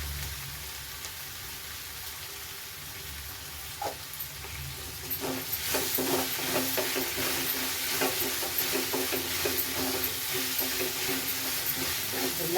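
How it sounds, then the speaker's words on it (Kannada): Chopped tomato sizzles and fries in a hot pan, a steady close hiss that grows louder partway through as a spoon stirs, adding soft scraping taps over the frying. "ಹಾಕಿ ಚೆನ್ನಾಗಿ ಇದನ್ನು ಫ್ರೈ ಮಾಡಿ"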